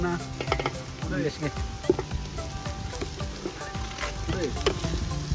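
Steady sizzling and crackling of mutton frying in a pot, close and continuous, with occasional stirring clinks and faint voices in the background.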